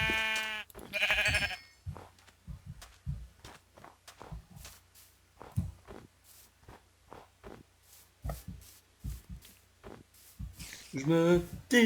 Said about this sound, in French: j'ai trouvé une chèvre